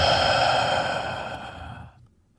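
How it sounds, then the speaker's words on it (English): A single long, slow meditative breath, a soft breathy exhale that starts fairly full and close, then gradually fades away to near silence after about two seconds. "Taking a long breath in and a long breath out."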